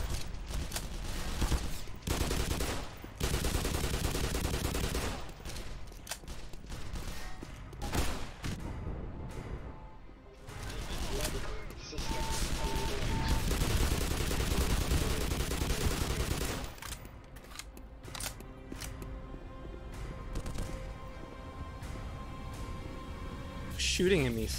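Enemy soldiers fire on the player in the shooter Black Mesa, with dense bursts of gunfire and rapid volleys that come in loud clusters, separated by short lulls, while someone talks over parts of it.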